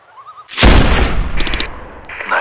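A single sharp, loud sniper rifle shot rings out in Sniper Ghost Warrior 2, its crack followed by a long decaying echo and a few faint mechanical clicks.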